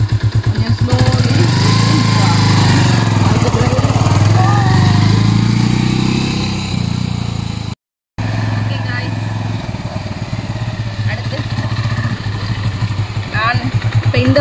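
A Bajaj Avenger Street 150cc motorcycle engine drones steadily while being ridden and shifted into first gear with the clutch. The engine is loud and close throughout, with a brief cut midway, and someone talks over it.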